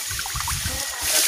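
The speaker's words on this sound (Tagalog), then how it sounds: "Yan na ng tubig" Water flowing near a cottage in Baras, Rizal, a close, steady rushing trickle that swells slightly toward the end, with no clear speech.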